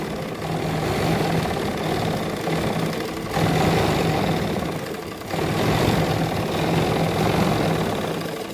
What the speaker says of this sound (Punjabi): ਸਭ ਤੋਂ ਪਹਿਲਾਂ ਆਪਾਂ ਡਬਲ ਸਲਾਈ ਕਰਾਂਗੇ ਬਾਹ ਦੀ ਮੂਰੀ ਤੋਂ